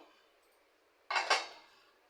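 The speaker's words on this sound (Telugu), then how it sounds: "ఇప్పుడు ఒక బాండిల్ పెట్టేసుకుందాము" A metal pan is set down on a kitchen stove with a single close, bright clank and a short rattling ring that fades quickly in an otherwise quiet room.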